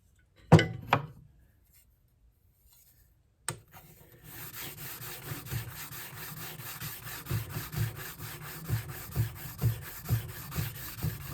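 A chisel is honed on a fine sharpening stone, with steady back-and-forth rubbing strokes in an even rhythm after a couple of sharp knocks and a brief silence near the start.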